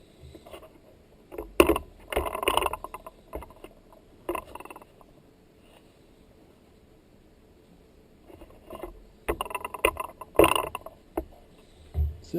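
Water gurgles and trickles down a freshly unclogged bathtub drain, coming in irregular bursts with quieter stretches between them, close by.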